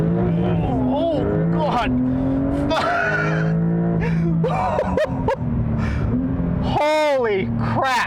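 2021 Porsche 911 Turbo launching with launch control in Sport Plus, engine howling through rising gear sweeps with sharp shift breaks, loud and close from inside the cabin, with an excited voice exclaiming over it.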